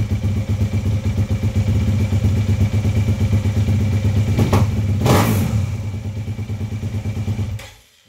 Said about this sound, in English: The light will not work unless the bike is running.